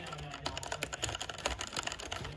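Fingers type rapidly on computer keyboard keys, a dense run of close, crisp clicks and taps in irregular rhythm with no talking.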